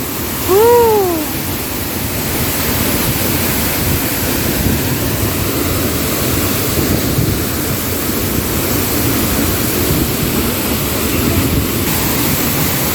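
Tad waterfall near Vang Vieng rushes with a constant, loud, broadband roar of falling water that fills the whole stretch, preceded by a brief whistling tone at the start, with no talking.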